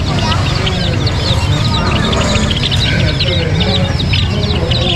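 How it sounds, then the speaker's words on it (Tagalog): Chickens and other fowl cluck continuously, close and loud, at a busy outdoor market stall selling birds, with steady crowd and background noise mixed in. "May nagtitinda rin ng ibon dito sa Carmen Planas."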